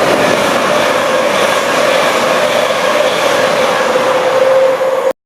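A train roars through Clifton station at speed without stopping, a loud steady rush with a droning tone, cutting off abruptly after a few seconds.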